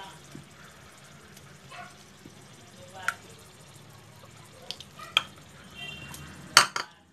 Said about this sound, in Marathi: आणि आपण सर्व हे मिक्स करणार आहोत.